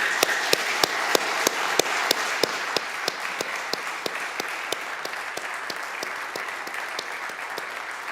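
Audience applause for Sam at an Eagle Scout Court of Honor, steady rhythmic clapping from an indoor crowd that holds evenly for several seconds.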